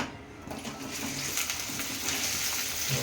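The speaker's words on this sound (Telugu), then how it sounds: "ఫస్ట్ బెండకాయ ఫ్రై చేసుకుందాం లైట్గా" Okra (bendakaya) frying lightly in a little oil, a continuous close hiss and crackle that swells after a quieter start and stays fairly steady, with no speech.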